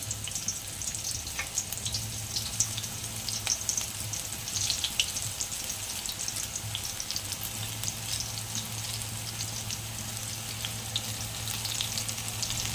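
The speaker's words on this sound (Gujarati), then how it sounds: "તેલ આપણું આવી ગયું છે તો આપણે એમાં તેમાં પકોડા પાડી લઈશું" Spinach pakoras dropped into hot oil: a continuous soft crackling fizz of frying, fairly quiet and steady throughout with a low hum underneath and no voices.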